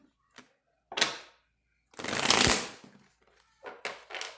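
Rider-Waite tarot cards being shuffled in several close, crisp bursts of riffling, with short pauses between them and no talking.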